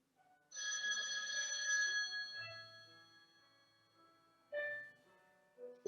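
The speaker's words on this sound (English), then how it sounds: "Here's an example of a phone ringing in the bedroom, and you play the piano." A phone rings in a bedroom, a steady bright bell tone lasting about two seconds, then shorter fainter bursts follow, with a soft low thump between them.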